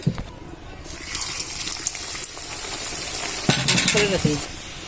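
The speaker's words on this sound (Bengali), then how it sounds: "এখন এক এক করে সবগুলো ভেজে নিবে" Parathas, including coriander-leaf parathas, fry in a pan with a steady close sizzle and some scraping and stirring, louder toward the end.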